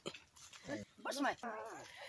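A dog whimpers and yips in short, high whining bursts, fairly close, mixed with people talking nearby.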